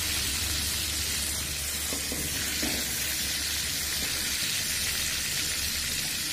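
Prawns fry in hot oil in a pan, giving a steady, close, continuous sizzle that runs unbroken throughout, with a few faint stirring scrapes partway through and no talking.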